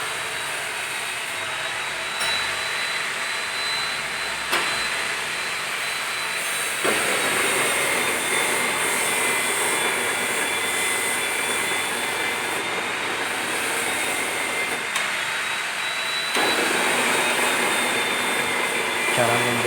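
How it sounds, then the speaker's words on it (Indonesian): A small bench drill press cuts a screw thread into a hole, producing a continuous high motor whine with a few brief shifts in load across the run. "Cara membuat drat ulir di mesin bor duduk."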